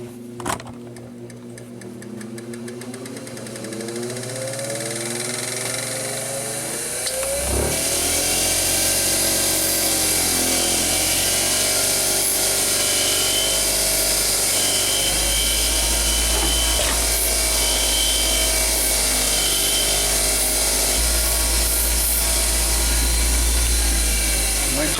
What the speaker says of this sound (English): I'll just clean it on the grinder.